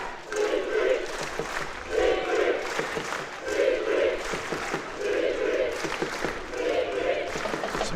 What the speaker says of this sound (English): Some noise from the Albanian crowd.